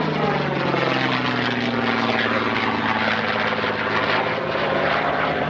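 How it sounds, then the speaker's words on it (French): A WWII P-51 Mustang propeller plane with a Rolls-Royce engine flies past at an airshow, making a loud, continuous droning roar with a high whistling edge and a slowly shifting pitch. "Il siffle à merveille. Il a le son du moteur Rolls-Royce en version courte."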